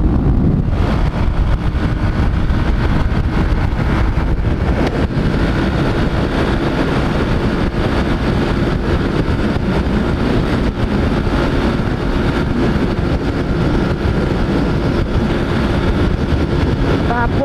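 A small motorcycle rides at speed on the road, its engine drone steady and continuous under heavy wind rush for the whole stretch.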